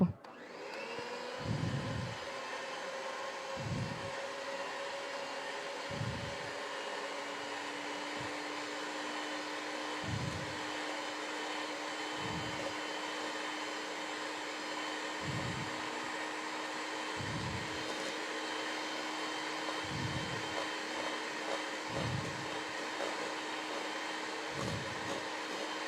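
An electric hand mixer whips egg whites for a Christmas pavlova, giving a continuous motor whine with regular rhythmic thumps as the beaters knock around the bowl, steady and moderately loud throughout.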